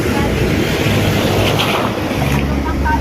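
Ocean surf at Bosowa Beach in Makassar, Indonesia: a loud, continuous wash of breaking waves with wind buffeting the microphone throughout, and no clear speech.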